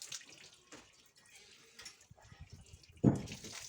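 Water runs and splashes close by while a young bull calf is shampooed and washed outdoors in a village, with a sudden louder gush near the end.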